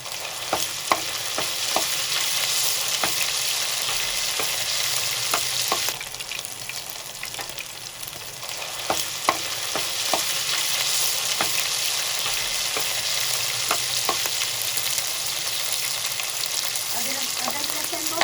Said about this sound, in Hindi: अदरक लहसुन को हल्का सा गोल्डन फ्राई करेंगे।